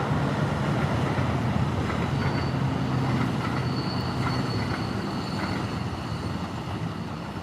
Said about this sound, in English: Hold on a second, there's a train.